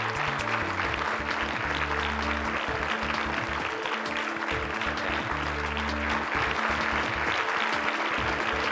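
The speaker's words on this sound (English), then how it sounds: "let's get on our feet and give a big round of applause to the owners of AIM" An audience rises and gives a big round of applause at a talk, a loud continuous wash of clapping that holds steady throughout, with a low musical tone running underneath.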